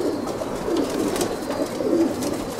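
Soft, low cooing of pigeons comes through a steady background hum, faint and repeated in gentle pulses, among birds kept for racing flights in Aigaleo, Greece.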